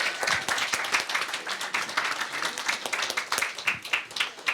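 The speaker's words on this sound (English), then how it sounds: "A round of applause." An audience at a Scotiacon 2025 convention event claps for several seconds, a steady patter of many hands that swells and dips slightly.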